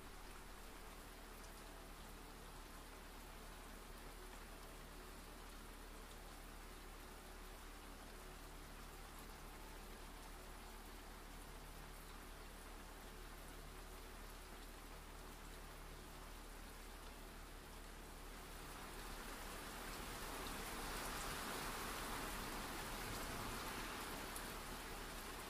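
Steady rain falls in a soft, even hiss that swells a little louder near the end; distant and calm, with no voices.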